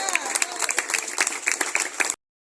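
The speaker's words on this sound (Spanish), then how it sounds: "Denle un aplauso a Dios." Church congregation applauding during an evening evangelistic campaign service, a steady burst of crowd clapping with sharp individual claps standing out, lasting about two seconds and then cutting off abruptly.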